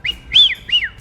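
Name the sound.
wigeon whistle imitated with a duck call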